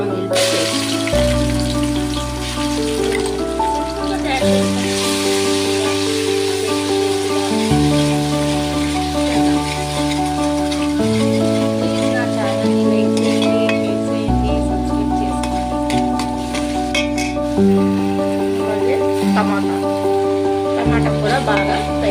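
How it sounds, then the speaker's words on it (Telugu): Tomatoes frying in a pan as part of a prawn biryani, a steady close sizzle with stirring running underneath louder background music throughout. "టమాటా కూడా బాగా ఫ్రై చేసుకోండి."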